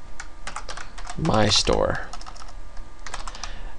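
Rapid clacking keystrokes on a computer keyboard run throughout, close and fairly loud, while someone speaks briefly over them.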